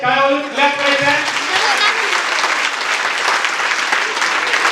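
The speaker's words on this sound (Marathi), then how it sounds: "त्यांच्यासाठी एक वेळेस जोरात टाळ्या वाजवायच्या." An audience at a school celebration breaks into loud, sustained applause, a dense wash of clapping heard up close, with a voice trailing off at the very start.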